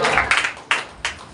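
Several quick hand claps from a church congregation, in short separated bursts that fade away, loud and close with no talking over them.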